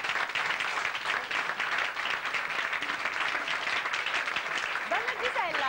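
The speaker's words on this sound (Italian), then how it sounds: "Gisella Sofio, un applauso per lei e per tutti" Studio audience applause on a 1991 Italian television birthday-party show, dense continuous clapping throughout, with voices talking over it near the end.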